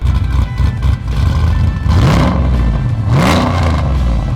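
A nitrous-fed 650 horsepower Chevrolet Trailblazer hot rod engine roars loud and close, rising in two revving swells over a deep, continuous rumble.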